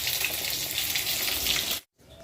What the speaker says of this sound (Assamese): মাছ ফ্ৰাই হৈ আছে।